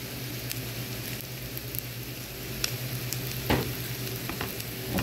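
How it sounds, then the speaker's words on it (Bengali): Flour frying in oil with chicken and vegetables, a continuous close sizzle with occasional sharp spatula taps and scrapes as it is stirred, no speech. "ময়দাটা একটু ভেজে নিব।"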